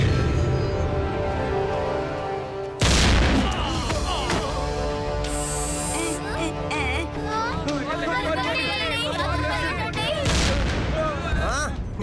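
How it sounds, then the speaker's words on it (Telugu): A cartoon blast explosion in an action story about a film shoot erupts as a sudden loud burst, followed by crashing debris and clatter. Agitated voices and chatter run throughout. "ఎక్కడి నుంచి బ్లాస్ట్ శబ్దం వినిపిస్తుంది?"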